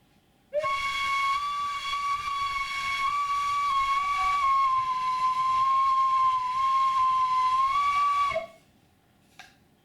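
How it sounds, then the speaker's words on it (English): A handmade Native American flute plays one long, clear, breathy sustained note with a slight waver in pitch. The note starts abruptly, holds for about eight seconds, then stops cleanly, with a faint tap a moment later. "Native American flute."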